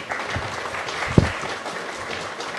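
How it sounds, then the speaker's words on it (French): An audience at an award ceremony claps in steady, moderately loud applause, with one sharp knock partway through and no one speaking. "Sur vos applaudissements, s'il vous plaît."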